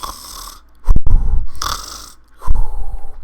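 A man imitates snoring with his voice, a few loud rasping inhale-and-snort bursts close to the microphone, separated by short pauses, over a quiet background.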